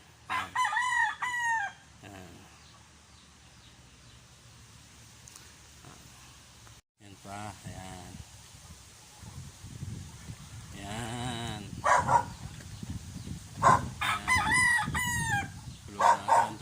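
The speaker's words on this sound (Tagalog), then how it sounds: "ang sabong na manok yan" A fighting rooster crows loudly several times on a farm in San Jose, Nueva Ecija, with other fowl clucking and a sheep bleating in the background.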